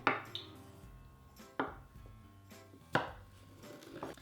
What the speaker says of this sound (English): I'm going to slice. I'm gonna do pretty thin slices for this, because this is for a salad